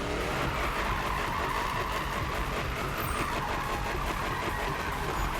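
Mustang Boss 302 RTR drifting in Need for Speed, a steady loud engine roar with tire skid noise running continuously for several seconds, no talk.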